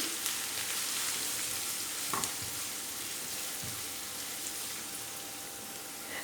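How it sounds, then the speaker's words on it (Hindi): Chopped onions frying in a pan for an egg masala curry, a steady soft sizzle with a few brief scraping stirs, faint and continuous with no voices. "प्याज को कर लेना है आपने अच्छे तरीके से कुक।"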